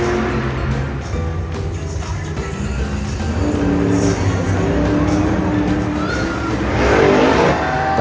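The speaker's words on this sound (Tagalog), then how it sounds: "Saba kaayo ang ilahang tambutso." Loud, continuous engine and exhaust roar from monster trucks revving nearby at a monster truck show, swelling toward the end with crowd noise underneath.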